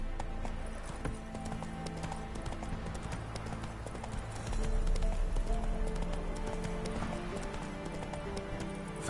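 Roach the horse gallops in a video game, a rapid, continuous clip-clop of hooves that grows heavier midway, with no talk over it.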